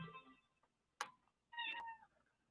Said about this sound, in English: Stop yelling at me, cat.